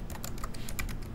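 Computer keyboard keys pressed during a PowerPoint session, several quick light clicks in a short burst, close and fairly soft against faint background noise, with no talking.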